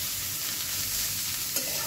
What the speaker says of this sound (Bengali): এটাকে ভালো করে পেঁয়াজ আদা লঙ্কা ভালো করে ভেজে নেব।